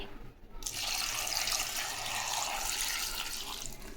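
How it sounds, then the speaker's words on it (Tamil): Water pours steadily into a pot of dal and vegetables for a sambar, a close, continuous splashing rush after a brief quiet start. "தண்ணி ஊற்றிங்க"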